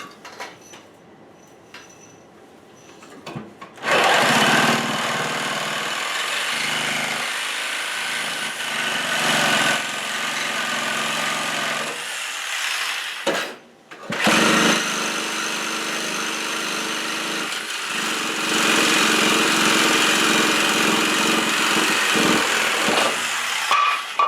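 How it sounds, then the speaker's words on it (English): A Sawzall reciprocating saw cuts through a metal furnace heat duct, loud and close, running in two long sustained bursts with a brief pause between them and no speech. "I'm going to take the Sawzall to it."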